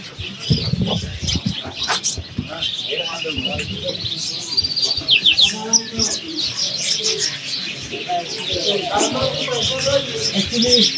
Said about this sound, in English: we're right now walking through a section of the bazaar where it's only birds